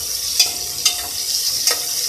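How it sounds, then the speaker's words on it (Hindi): Potatoes and onions fry together in a pan with a steady, close sizzle, broken by a few soft stirring scrapes. "आलू को और प्याज को दोनों को एक साथ भून लेंगे।"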